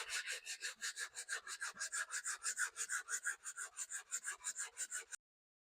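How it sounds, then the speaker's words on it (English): Bondo body filler being sanded on a hard fiberglass part with quick, even back-and-forth strokes, a close rhythmic scratchy rasp that stops abruptly, with no talking. "When we're sanding on this, the fiberglass is really hard and the Bondo is very soft."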